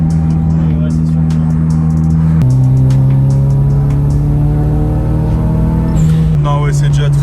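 A turbocharged Nissan 200SX S13 running a T28 turbo accelerates with a loud, steady engine drone that climbs in pitch, shifts, and pulls again, with people talking over it.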